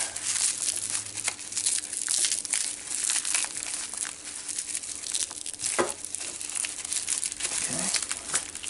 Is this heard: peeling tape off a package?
yes